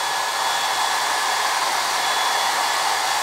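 Pink rotating hot-air brush hair dryer running steadily, a loud, constant whooshing airflow with a faint motor whine, close and uninterrupted.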